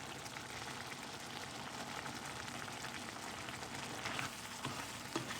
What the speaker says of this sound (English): You're gonna cook this down on a low fire